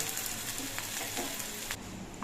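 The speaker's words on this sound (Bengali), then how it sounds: "এগুলো ভাজা হতে হতে দেখুন পেঁয়াজগুলো একেবারে ভাজা হয়ে গেছে" Onions and taro stalks frying in a pan give a steady, dense sizzle throughout, with faint stirring scrapes and a slight drop in level near the end.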